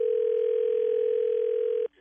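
A telephone dial tone sounds while a three-way call is being set up, a loud, steady single hum held for about two seconds and then cut off abruptly.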